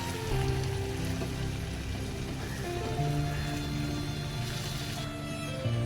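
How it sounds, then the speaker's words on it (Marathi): Soaked broken wheat (dalia) stir-fried in a pan, a soft continuous crackling sizzle with faint scraping, steady and close under a low background hum. "दलिया सुद्धा चांगला परतून घ्यायचा."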